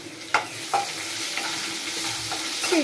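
Curry leaves, chili and crushed small garlic fry in a pan for a pepper tomato kuzhambu, giving a steady close sizzle broken by several sharp clinks of a spoon stirring, with no talking.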